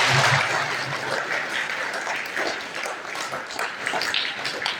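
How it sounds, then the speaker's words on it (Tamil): An audience at a Women's Day gathering applauds loudly together, a dense, continuous clatter of many hands clapping that stays strong for several seconds. "நல்லா சத்தமாக கைத்தட்டி நம்ம வாழ்த்துக்களை சொல்லிக் கொள்வோம்"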